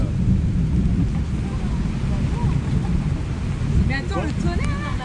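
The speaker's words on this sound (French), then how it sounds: "Mais attends, le tonnerre." Rumbling thunder during a rainy week in a garden at Saint François on Réunion Island, a low continuous roar filling the clip with wind and rain noise, while voices briefly talk near the end.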